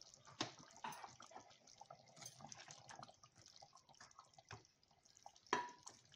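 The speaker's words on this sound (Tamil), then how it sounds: "ஆஃப் பண்ணதுக்கப்புறம் நல்லா கொதிச்சுட்ருக்குது." Bitter gourd curry keeps bubbling in a pot just after the stove is switched off, with faint, irregular pops and gurgles and an occasional sharper blip against a quiet room.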